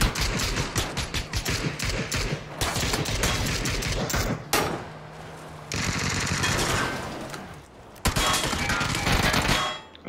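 Rapid bursts of automatic gunfire from the battle-royale video game PUBG, dense and loud through most of the stretch, broken by brief pauses, with distant rattling shots in between.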